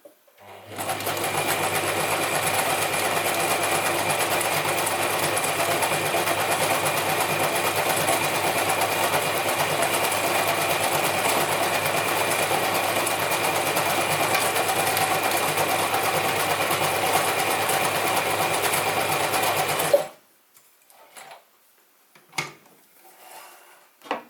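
A Gritzner 1002 or Pfaff 307 sewing machine runs continuously for about twenty seconds, a steady close whirring hum with rapid needle clatter, then stops abruptly, leaving a few faint handling knocks.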